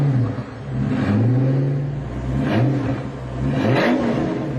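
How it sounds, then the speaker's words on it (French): A powerful Maybach Exelero car engine revs up and down repeatedly, its pitch rising and falling in loud, close surges. "c'est le son qu'émet ce moteur qui vous laisse sans voix"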